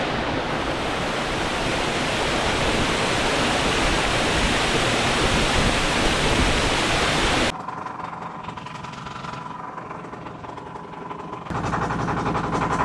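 A waterfall near Bilaichari in Rangamati roars with a dense, steady rush of falling water. The sound drops abruptly to a much quieter level for a few seconds, then swells back up.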